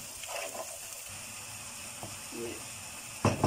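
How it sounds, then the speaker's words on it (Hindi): Garlic and ginger paste frying in a pan with golden brown onions for nargisi kofte, a faint steady sizzle with a few light utensil clinks and a louder clatter near the end; no talking. "अब मैं इसमें गार्लिक और जो जिंजर है इसका पेस्ट डाल रही हूँ। और इनको 1-2 मिनट के भून के"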